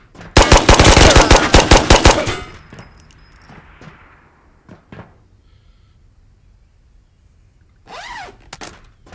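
Rapid automatic gunfire in the Ghosts of Tabor VR shooter, a loud burst of a dozen or so close shots over about two seconds, then quiet clanks, footsteps and a short mechanical whine.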